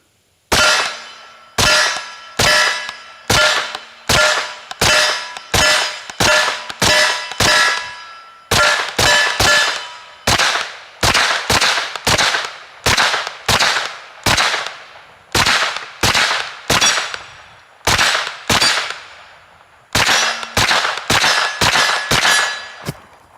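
Rapid, evenly paced shots from a Stribog SP9A3 pistol-caliber carbine, each followed by a sharp metallic clang of steel targets, dozens of loud hits in quick strings with brief pauses, no talking.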